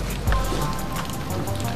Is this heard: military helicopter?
no